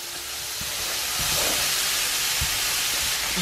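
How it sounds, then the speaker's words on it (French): Pear and apple pieces sizzling in a frying pan just used for crêpes, a loud, steady broadband hiss that holds for a few seconds, with faint clinks underneath. "je vais maintenant faire revenir ma poire et ma pomme dans la même poêle"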